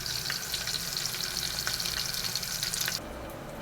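Steady sizzling of tomatoes sautéing in a pan, with light stirring scrapes, continuous and close, dropping quieter near the end.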